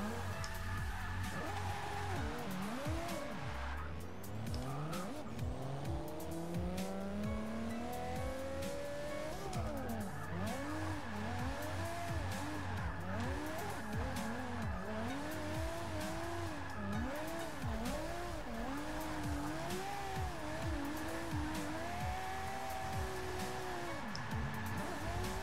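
A Nissan 370Z races in the Forza 6 driving game, its engine revving loudly through repeated rising and falling gear sweeps, with tire squeal as it corners, alone and without talk.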